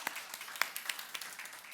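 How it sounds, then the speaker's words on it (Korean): A church congregation applauding after a Sunday worship service, a scattered patter of claps from many hands with a few sharper nearby claps standing out, moderately quiet and steady. "우리 한 번 더 감사의 박수, 영광의 박수 올려드리도록 하겠습니다"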